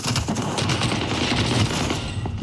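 Gunfire in a shooter video game comes as a dense, continuous rapid-fire burst of overlapping shots, loud and close for the whole moment, with no talk over it.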